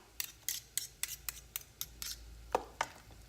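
A spoon scrapes and stirs vegan mash in a pot, giving about a dozen quiet, rhythmic scrapes and clinks at close range with no talking.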